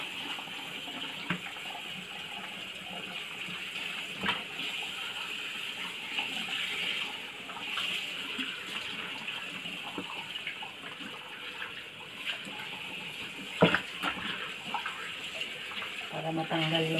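Cold water runs from a tap over food being rinsed of salt and black pepper. The steady, moderately faint splash continues throughout, with small clatters and a brief louder knock near the end.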